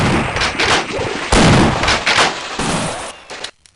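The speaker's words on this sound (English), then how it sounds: "the machine gun and the shotgun both got new sounds that clearly peak the hell out of the mic whenever they were recorded" Half-Life HD pack machine gun and shotgun firing in a video game, loud, distorted clipping bursts of rapid shots and heavy blasts packed close together, then a sudden cutoff into near silence.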